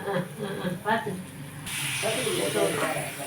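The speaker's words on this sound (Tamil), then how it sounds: "இப்போ வந்து தண்ணி ஊற்றிக்கலாம் ஃப்ரெண்ட்ஸ்" Water poured into a hot pan of sautéed tomatoes with chilli powder for thakkali thokku, a brief scrape giving way to a steady close hiss and spray that continues to the end, with a voice talking near the start.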